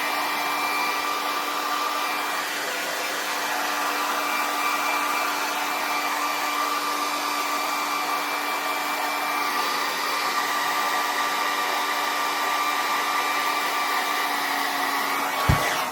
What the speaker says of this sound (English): hit it with the cool shot on your blow dryer